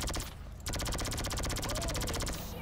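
Rapid machine-gun fire from the mounted gun of the Impaler vehicle in GTA Online's Arena War mode, a dense, loud, continuous burst with a short gap near the start.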